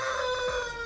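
A chicken at a free-range poultry breeder's farm gives a short, faint crowing call, alone and brief.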